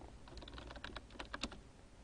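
Rapid keystrokes on a computer keyboard patter in an uneven burst, close but quiet, with no voices over them.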